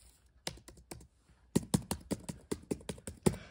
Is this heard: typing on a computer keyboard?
yes